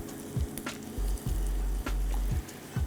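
Cabbage and green chillies fry in a pan with a close, continuous sizzle, broken by several short scraping stirs of a spoon against the pan.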